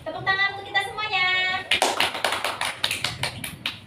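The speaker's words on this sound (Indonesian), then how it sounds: "Tepuk tangan untuk kita semuanya." Several seconds of rapid clapping from a small group in a classroom, crisp and close, following a brief stretch of voice at the start.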